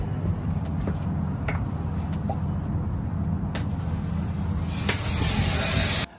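A handheld stick fire extinguisher, struck like a match and aimed into burning oil, gives a steady loud hiss and spray that swells toward the end before cutting off abruptly.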